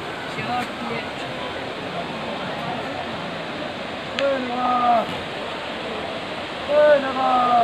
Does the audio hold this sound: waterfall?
yes